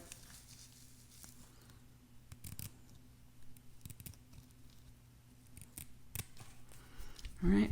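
Scissors snipping the lace along the forehead of a wig, sparse crisp cuts spaced irregularly, close and fairly quiet over a faint background hum.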